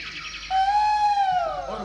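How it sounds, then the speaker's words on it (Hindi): A koel calls once in a village during monsoon rain, a single clear drawn-out whistled note that rises slightly and fades, heard alone. "कोयल बोलने लगी"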